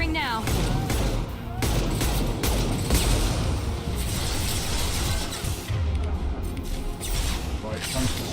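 Weapons fire in Mass Effect 2 amid a busy, loud battle, with continuous bursts, crashes and mechanical clatter filling the whole stretch, and a voice talking over it.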